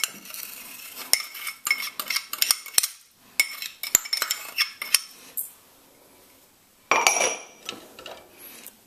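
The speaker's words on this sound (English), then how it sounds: "Just gonna grab a spoon to make sure I get all of that salt in there" Metal spoon clinking and scraping in a bowl while stirring salt into chopped shadow benny, a run of quick sharp taps and rasps, close and alone, pausing briefly before a final scrape.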